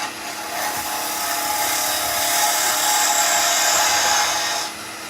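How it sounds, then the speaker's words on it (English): A parting tool cuts the end of a spinning wood workpiece on a lathe, a steady, close, high-pitched scraping whine that holds for several seconds before the tool lifts away, with no talk. "I'm just going to tidy up that one end, and you can do that with a parting tool."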